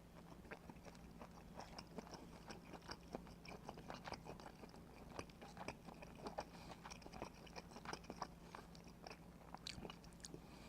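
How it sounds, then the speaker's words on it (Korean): Lean part of E-Mart wood-smoked pork belly being chewed close to the mic, with steady soft wet bites and chewing at a quiet level, no talking. "자, 그리고 이번에는 살코기가 있는 부분을 한번 먹어볼게요."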